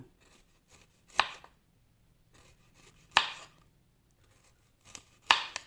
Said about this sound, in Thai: เราก็หั่นนะเพื่อนเป็นแว่นๆอย่างนี้นะคะ